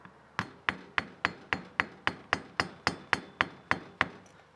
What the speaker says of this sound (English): then we will do this last one with kind of that rubber mallet hitting method